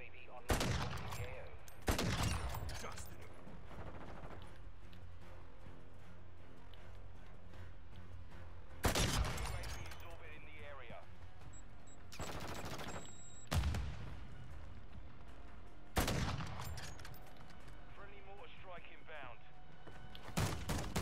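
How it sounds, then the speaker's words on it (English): Gunfire in a multiplayer shooter game, with a shotgun among the weapons: sharp loud blasts come in separate bursts spread across the stretch, over game noise and bits of team chatter and radio voice callouts. "Wow, shotgun."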